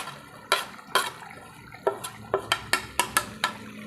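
Siling pansigang and siling labuyo chilies dropped into a pan for a Filipino sinantolan dish, giving about a dozen quiet, separate clacks and taps at an uneven pace. No speech.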